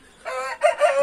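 A rooster crows near a house with a small white hen around, a loud, clear two-part call lasting under a second with a short break in the middle.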